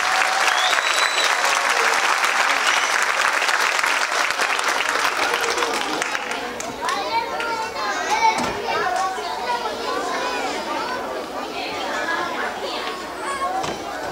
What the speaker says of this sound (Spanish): Un gran aplauso a sus educadores.